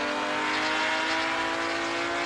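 Porsche touring race cars battling in Assetto Corsa at Barbagallo, a loud, steady engine drone at high revs with no one talking.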